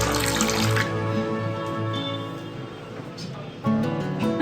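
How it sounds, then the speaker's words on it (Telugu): Water poured into a bowl of semolina, a splashing, gurgling pour with someone talking over it, briefly pausing before another short burst of pouring. "ఒక 2 నిమిషాలు కొంచెం వాటర్ వేసి."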